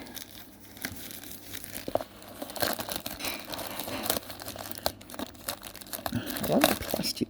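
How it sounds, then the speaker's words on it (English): Plastic packaging around a DJI Mini 3 drone crinkles and rustles close up during unboxing, irregular crackling bursts that grow busier toward the end. "I love the plastic they put these things in"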